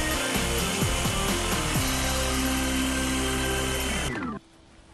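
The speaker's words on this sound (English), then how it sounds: "Now we've got to cut the stalk. So if we mark that on like so, and then jigsaw it out." A powered jigsaw cuts a stalk shape from wood for a rustic cottage kitchen, buzzing loudly and steadily up close for about four seconds, then cutting off abruptly.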